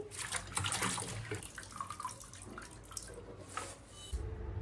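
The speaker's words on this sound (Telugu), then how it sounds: "కొద్దిగా లోతుగా ఉన్న గిన్నె తీసుకుని వాటర్ పట్టుకుంటే కడగడానికి ఈజీగా ఉంటుందండి" Coriander leaves are washed by hand in a deep bowl of water, giving close, continuous splashing and sloshing with small drips throughout.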